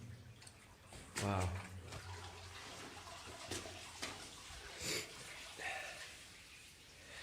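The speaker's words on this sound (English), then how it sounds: "there's that water blast going straight down" Water blasts straight down a mine shaft, a steady rushing wash heard from above with a few louder splashy surges, while people exclaim and talk nearby.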